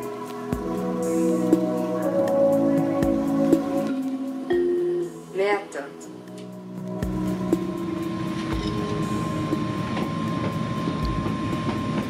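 A CFL train rolls along the track in Luxembourg with rhythmic clickety-clack thumps, a steady low rumble and a brief high wheel squeal, heard from inside a tilting carriage.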